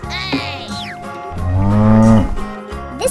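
A cow gives a loud, drawn-out moo that swells in the middle, set against bright background music and a few short cartoon sound effects.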